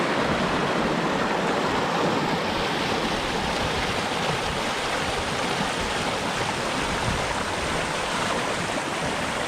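The Weld River rushes steadily over bedrock, a dense, unbroken roar of flowing water that stays even and loud throughout, with no voices.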